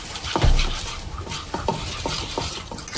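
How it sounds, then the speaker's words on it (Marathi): A spoon stirring roasted besan into a thick tandoori masala paste in a bowl, several soft scraping and squelching strokes at an uneven rhythm, close and fairly quiet, with no talking. "बेसनही व्यवस्थित मिक्स करून घ्यायचं."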